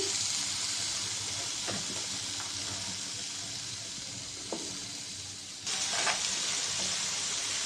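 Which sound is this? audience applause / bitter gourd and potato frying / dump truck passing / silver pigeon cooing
bitter gourd and potato frying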